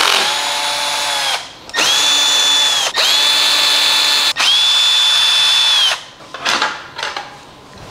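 A cordless power drill backs out four screws from a motorcycle TFT guard fitting, running in loud, close whining bursts with brief stops between them, then a few short uneven spins at the end.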